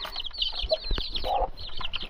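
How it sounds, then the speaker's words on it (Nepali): Young chickens cluck and peep nearby in quick, short bursts, a busy chatter of several birds close to the microphone. "तँ देखाइदे हाम्रो अहिले नयाँ नयाँ कुखुराहरू"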